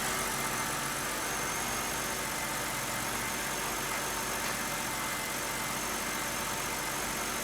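A car engine idling just after a three-stage intake manifold swap, a steady continuous mid-to-low rumble with a broad hiss on top, constant and even throughout with no voices.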